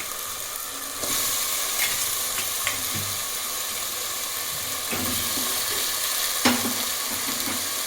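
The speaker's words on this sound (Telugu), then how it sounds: "ఈ మసాలా అంతా పట్టేలాగా దీన్ని ఒక 2 మినిట్స్ సాట్ చేసుకుందాము" Half-boiled mutton pieces sautéing in masala for biryani, a steady loud sizzle and fry with a few scrapes and clunks of stirring, no talk.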